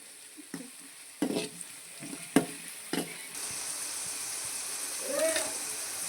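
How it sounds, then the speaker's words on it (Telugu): Onions fry in a pan toward golden brown for an Andhra-style fish curry, with a soft, steady sizzle broken by a few sharp clinks and scrapes of a spoon stirring against the pan. "కొంచెం ఆనియన్స్ బ్రౌన్ కలర్ అయ్యేంత వరకు గోల్డెన్ బ్రౌన్ అవ్వాలి ఆనియన్స్."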